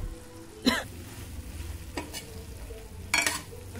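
Ingredients frying in a pan, with intermittent sharp bursts of stirring and sizzling over a steady low cooking hiss, close and moderately quiet.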